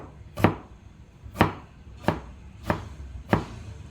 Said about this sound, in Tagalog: slice na natin ang loya